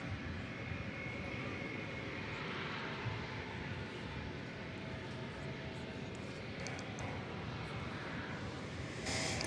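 An airliner takes off at DFW Airport on a summer morning, its engine roar a steady, broad rumble that holds evenly throughout at a moderate distance.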